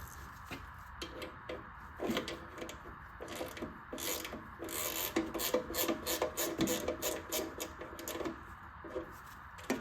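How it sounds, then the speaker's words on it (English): Ratchet wrench clicking steadily in quick repeated bursts while tightening a new nut on an old stud of a Harley-Davidson Servi-Car clutch, close up in a workshop with no talking. "I do have a ratchet wrench here, so I'm just going"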